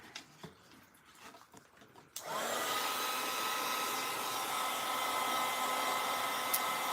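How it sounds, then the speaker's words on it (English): An embossing heat tool switches on after a couple of quiet seconds, then blows hot air in a loud, steady whooshing hum that holds unbroken to the end, close to the microphone. "I do have my embossing heat tool, so we'll just go ahead and do that."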